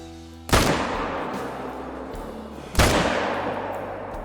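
Two loud rifle shots in the hunting game theHunter: Call of the Wild, about two seconds apart, each a sharp crack followed by a long echoing tail that fades across open terrain.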